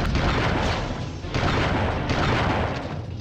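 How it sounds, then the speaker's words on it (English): Shotgun blasts in the video game Army Men: Sarge's Heroes, loud, dense and noisy, with a couple of heavy booming shots in quick succession and no gaps of quiet between them. "listen to the shotgun"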